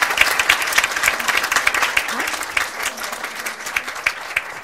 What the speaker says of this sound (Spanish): Gran aplauso para ellos.